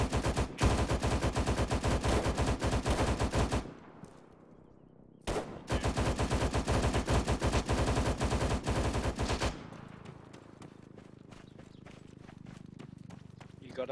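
Rapid automatic gunfire rattles in two long, loud bursts in a military shooter game, separated by a brief pause and followed by quieter scattered sounds with voices talking over the action.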